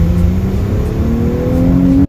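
Interior engine drone of a 2019 Porsche Panamera under hard acceleration, a loud, steady low roar rising gradually in pitch for about two seconds before cutting off abruptly.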